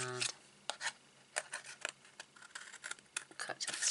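Scissors snipping through scored cardstock while making a stepper gift box, a string of short crisp cuts and rustles in uneven bursts, close and fairly quiet, with a voice speaking briefly near the start.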